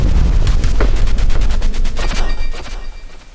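An explosion ability from the video game Owlboy fires off in a loud, rapid burst of crackling blasts, like a quick volley of gunfire, then quickly tapers away.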